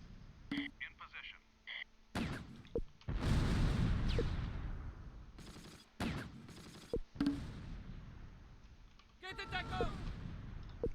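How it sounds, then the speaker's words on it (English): Mortar barrage explosions from the WWII strategy game Close Combat land as several heavy, rumbling bursts spread over the stretch, with a commentator talking between them. "Mortar barrage is falling."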